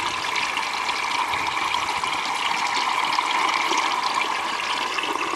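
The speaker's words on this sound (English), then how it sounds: "Water goes down the centre pipe" Water rushes and trickles steadily through a homemade DIY pond filter, flowing down a centre pipe and out toward a waterfall; a continuous, fairly loud, close splashing flow with no talk.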